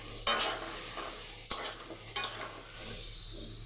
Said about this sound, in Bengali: পটলটা ভালো করে ভাজতে হবে